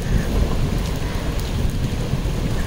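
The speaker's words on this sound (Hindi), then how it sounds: "बहुत तेज है बारिश यार" Heavy rain pours down outdoors in a loud, dense, continuous roar with a deep rumbling low end, steady throughout and with no voices.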